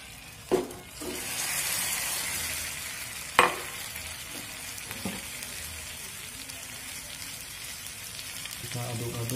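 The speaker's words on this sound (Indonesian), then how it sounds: "Kita aduk-aduk hingga gulanya larut." Sugar being stirred in a pan as it melts for caramel for banana dessert: soft, steady scraping and faint sizzle, with a few sharp knocks of the utensil against the pan, fairly quiet and close.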